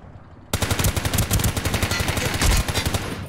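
Rapid automatic gunfire in the Ring of Elysium video game bursts in suddenly after a quiet start, a dense run of loud, closely spaced shots continuing to the end with no talk.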